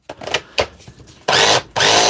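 A DeWalt SDS hammer drill being tested for cutting out and losing power fires in short bursts, first stuttering starts and stops, then two longer loud whirring runs close by.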